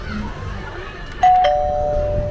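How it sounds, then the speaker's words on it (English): A two-tone doorbell chime rings clearly once, its ding-dong notes lingering and fading after a stretch of low background murmur. "ring the doorbell again and again and again"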